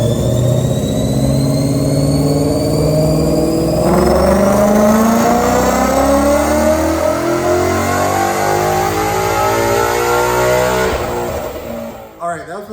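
A 2011 Ford Mustang Coyote V8, high-mileage with E85 fuel, roars at full throttle, pitch climbing steadily through the gears with brief shift dips, loud and close, fading out at the end.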